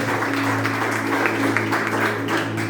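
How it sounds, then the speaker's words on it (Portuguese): Church congregation clapping hands in praise during a worship service, a steady, dense wash of many hands at close range, sustained throughout with a low hum beneath. "Então pode louvar a Deus com as palmas bem alegre para Jesus"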